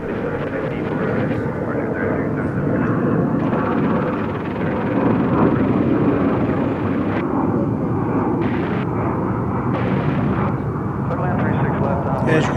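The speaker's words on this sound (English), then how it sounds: "As you can see, that's Frontier flight." A Frontier Airlines plane passes at DFW Airport, a broad, steady jet roar that stays loud throughout, with a person talking over the engine noise.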